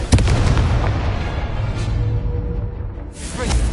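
A Confringo fire spell blasts in a Harry Potter video game, a loud booming explosion with a sharp crack at the start and a rolling rumble that fades and then swells again.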